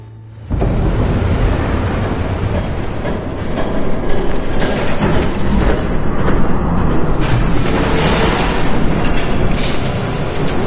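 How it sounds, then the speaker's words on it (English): A train rumbling past in a Batman video game, a loud, continuous heavy roar that swells in after a brief quiet start and holds for about ten seconds, with bursts of metallic clatter and hiss on top. "There's a train coming."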